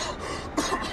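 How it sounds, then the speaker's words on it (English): A single short cough, fairly close and moderately loud, stands out against a noisy background within about a second. "So I'm getting over this fucking cough"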